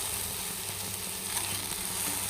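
Beans and vegetables sautéing in hot oil with salt, a steady close sizzle and crackle with faint stirring, no voices.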